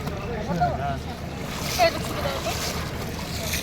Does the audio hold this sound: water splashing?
yes